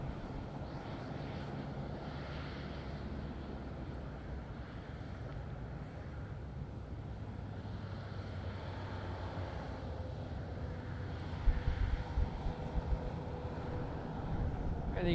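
An Azores Airlines A320neo runs its engines at Madeira airport before heading to Ponta Delgada, a steady broadband jet rumble with wind buffeting the microphone, growing slightly louder toward the end.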